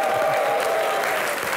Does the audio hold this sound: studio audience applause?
yes